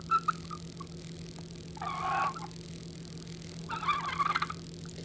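A soft, squishy rubber RC car tire squeaks in two short squealing bursts a couple of seconds apart, close and fairly quiet over a low steady background hum.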